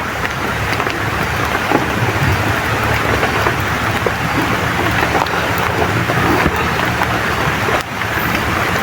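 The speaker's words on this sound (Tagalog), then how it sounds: "Medyo lumakas na naman yung ulan." Heavy rain pours steadily and loudly, a dense hiss of drops drumming on surfaces throughout, with no voices.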